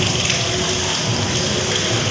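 Rainwater from heavy rain pooling and flowing inside the Senbagavalli Amman temple in Kovilpatti, heard as a steady, loud gushing wash of water throughout, with no talk.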